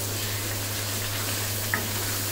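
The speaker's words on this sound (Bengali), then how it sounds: "আমি কিন্তু তেলের মধ্যেই ভাজতেছি" Spices fry in oil in a pan for morog polao, a soft, steady sizzle with a faint stirring scrape and one small pop near the end.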